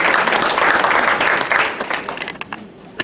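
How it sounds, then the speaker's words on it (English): Audience applause at a League of Women Voters candidate forum: a dense burst of clapping from many hands that starts strong, then thins out and fades into a few scattered claps. "let's give her a round of applause"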